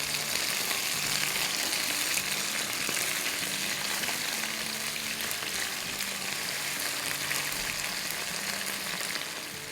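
Chicken fries in a pan over a medium-high flame, a steady dense sizzle and crackle that holds evenly close by throughout, with no voices.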